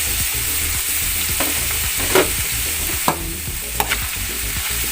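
Celery being stirred into a sizzling pan of bangus (milkfish) lumpia filling with tofu, a steady close fry hiss broken by a few louder scraping stirs of the spatula.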